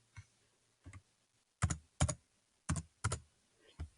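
Close, quiet keystrokes on a computer keyboard while filling in a spreadsheet, a few isolated taps followed by irregular pairs of sharper clicks over about four seconds, with no talking.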